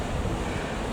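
Stiff breeze rising outdoors before a storm, a brief steady rush of wind buffeting the microphone, broadband and fairly faint with no voices.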